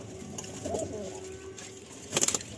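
Pigeon in a breeding loft giving a soft low coo, followed by a brief burst of sharper fluttery sounds, against quiet room ambience.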